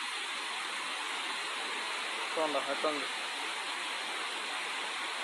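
The Sanathkumara river flowing near Muruguguda makes a constant broad rushing hiss, steady and fairly close, while someone speaks briefly over it partway through.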